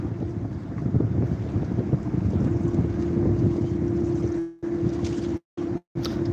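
A passenger launch passes at Daulatdia ferry ghat, a steady low engine drone and rumble of a water vessel, heavily buffeted by wind on the microphone, with brief dropouts near the end.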